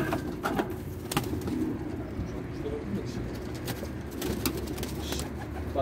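Pigeons in an Istanbul coop coo steadily and close by, with scattered wing flaps and rustling, while people talk softly in the background.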